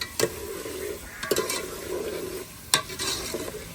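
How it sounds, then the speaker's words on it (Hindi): Tomatoes frying in a pot while a spoon scrapes and knocks against the metal three times, each stroke followed by a bubbling, hissing sizzle, close and clear with no talking. "इसको थोड़ी सी भुनाई करेंगे टमाटरों की ना"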